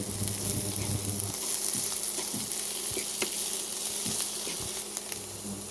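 Vegetables with garlic sizzling and frying steadily in a pan, a continuous close crackle with occasional stirring scrapes and no talking.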